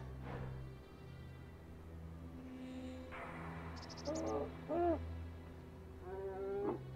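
A bird calls in the ELEX game world, giving short warbling, hooting cries in a few separate bursts over a low steady ambient hum, with no speech.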